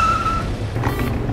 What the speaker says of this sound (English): Reverse gear.